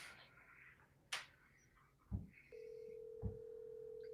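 An outgoing phone call with a steady ringback tone starting partway through over quiet background, along with a few brief clicks and taps.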